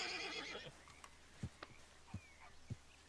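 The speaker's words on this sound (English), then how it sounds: "Bro, this is a beautiful horse." In the Red Dead Redemption 2 video game, a Kentucky Saddler horse gives a loud whinny, then its hooves land in a few distinct, spaced clip-clops against quiet outdoor ambience.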